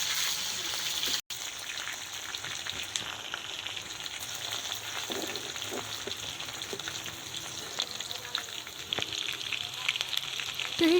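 Onions fry lightly in hot oil in a kadhai, giving a soft, steady sizzle with faint crackles throughout, quiet and close with no voices.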